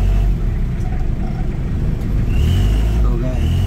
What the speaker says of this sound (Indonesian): Lo mau denger gak suaranya, guys? Gua geber nih.